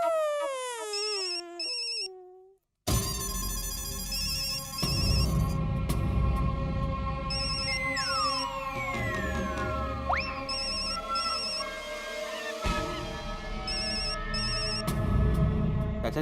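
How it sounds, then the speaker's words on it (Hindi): A telephone ringtone trills repeatedly in a domestic scene from the sitcom Taarak Mehta Ka Ooltah Chashma, a bright electronic melody cycling in steady bursts, mixed with background music and a falling whistle-like tone. "आपका फोन बज रहा है"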